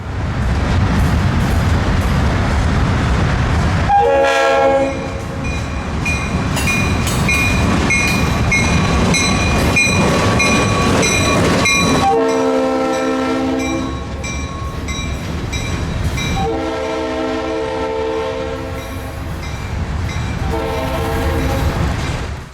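An FEC freight transfer job rumbles steadily past nearby, wheels clacking continuously, while the horn blasts repeatedly in long, loud sounding patterns over the rolling noise.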